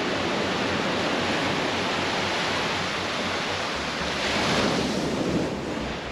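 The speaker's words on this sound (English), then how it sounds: "The famous blue Maui water, now black with soot and burnt wood crashing against the shore." Sea waves crash against the Maui shore, the water blackened with soot and burnt wood after a wildfire. A loud, continuous, near roar of surf swells slightly toward the end, with no voices.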